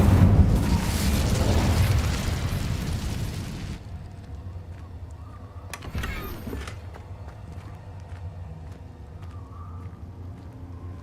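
Incendio fire spell cast in Hogwarts Legacy, a loud roaring whoosh of flame that fades after a few seconds, followed by a quieter burst and low game ambience.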